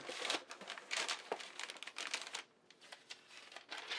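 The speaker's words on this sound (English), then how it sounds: "just start to cram this thing full of newspaper" Newspaper crumpled and crammed into a box while comics are packed for shipping: a quick run of crisp crinkling bursts and rustles, close up, with a brief pause before more scrunching.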